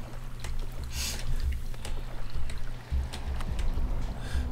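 Sewer water in the HROT video game, a steady rushing, trickling flow with low churning rumble, continuous and fairly close, with no talk over it.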